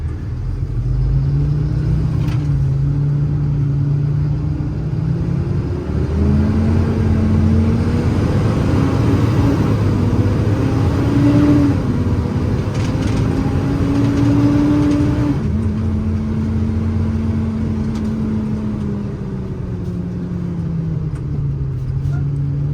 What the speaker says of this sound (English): Plenty of power, shifts through the gears nicely, really gets up and goes.